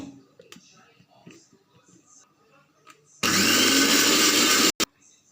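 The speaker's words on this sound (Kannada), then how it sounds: "ಹೀರೆಕಾಯಿ ಹಾಕಿ ಬೀಸ್ತಾಯಿದ್ದೇನೆ" A kitchen mixer grinder bursts into a loud, steady whir as it grinds ridge gourd and coconut with a little water for Sirsi-style chutney. It runs for about a second and a half, stops abruptly and gives a short final pulse. Quiet kitchen sounds come before it.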